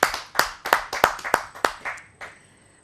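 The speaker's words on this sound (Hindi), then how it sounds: "आप सबकी जोरदार तालियों से।" About eight slow, distinct hand claps at a Hindi kavi sammelan poetry gathering, evenly spaced and close, fading weaker at the end. It sounds more like a single person clapping than a full audience.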